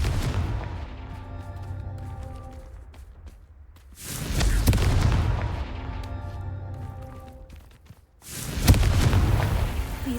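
Two heavy blasts of the Confringo spell in Hogwarts Legacy, each a loud booming burst that rolls off into rumble, separated by a few seconds of quieter background.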